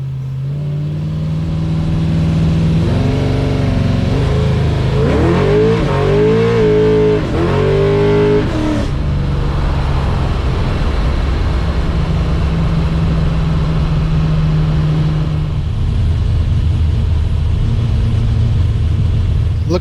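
A V8 Chevrolet S10 pickup with a 400 cubic inch small-block engine accelerates into traffic. It gives a loud, steady engine drone that revs up through rising gears midway, then settles back to a low, continuous rumble.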